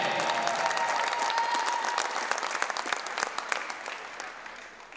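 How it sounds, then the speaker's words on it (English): A volleyball crowd in a college gym applauds a player introduction with dense, loud clapping and a faint whistle-like tone early on. The applause thins into scattered claps and fades. "Ladies and gentlemen, let's have a round of applause for number 12, Brittany Bennett."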